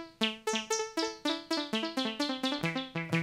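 Synth arpeggio with a short slapback delay of about 150 ms, each bright plucked note followed by a quick single repeat, a steady stepping pattern of roughly a dozen notes, clean and close with no voices.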